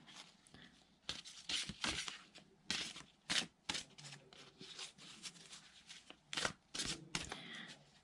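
Oracle cards shuffled by hand in a quiet room, a string of papery riffling bursts in uneven rhythm with short pauses between them, close and moderately loud.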